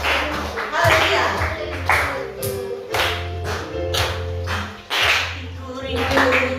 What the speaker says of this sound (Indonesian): Mari tepuk tangan semuanya dengan sukacita.